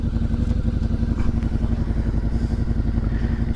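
A motorcycle with its exhaust holes drilled out bigger idles close by with a deep, loud, rapid thumping exhaust, steady and rumbling throughout with a slightly rough, throaty edge.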